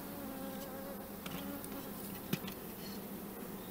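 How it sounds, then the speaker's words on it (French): Honey bees hum steadily on a hive frame during queen rearing, a dense, continuous close-up drone with a few small taps and rustles, no voices. "Regardez-moi ce rideau d'abeilles."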